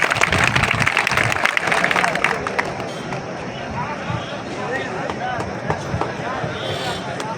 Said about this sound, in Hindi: उमेश जी के लिए जोरदार तालियां